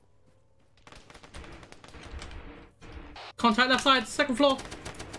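Arma 3 gunfire breaks out in rapid, loud bursts of automatic shots over a tense military firefight, following quieter rustling and background noise while players call out over radio.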